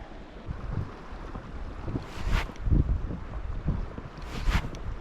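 Steady wind buffeting the microphone while fishing at Studenytsia, Ukraine, rumbling low with gusts rising and falling, and a couple of brief higher hissy swells.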